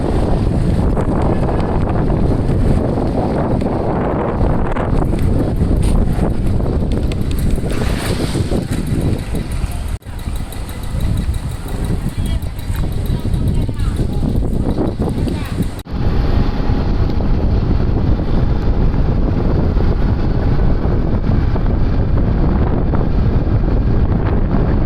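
Strong, steady wind buffets the microphone outdoors near a high school and temple in Pudupatti, a continuous loud roar that barely lets up for the whole stretch, with brief dips.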